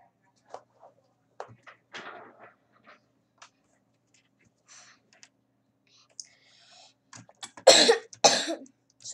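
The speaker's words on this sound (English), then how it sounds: "there's some coughs" Someone coughs a few times, quiet at first, then a couple of louder, sharper coughs close by, scattered among small clicks and near-silence.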